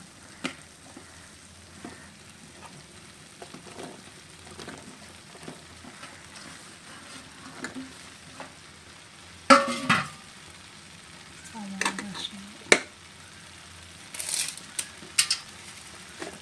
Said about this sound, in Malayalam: ഇനി നമുക്ക് മഷ്റൂം ഇട്ട് കൊടുക്കാം